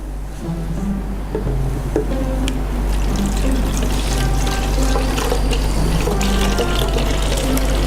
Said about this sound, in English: we half fill the container with vinegar